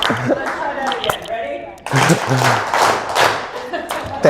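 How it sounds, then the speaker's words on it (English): Audience clapping at a spoken word poetry performance, a sustained round of applause swelling loud and close, mixed with bursts of talk over the clapping. "Can we get some claps?"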